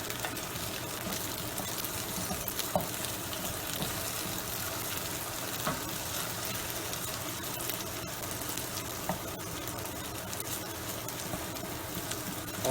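Chunks of starchy taro cooking in a pan, with a steady watery bubbling and sizzle at close range and occasional light knocks of stirring throughout, no voices.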